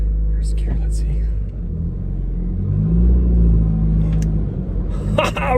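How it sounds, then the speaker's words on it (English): A neglected barn-find Honda Civic pulls away with a loud, grinding clutch over a deep, steady engine rumble up close, and a voice is faintly heard. "Loudest clutch I've ever heard."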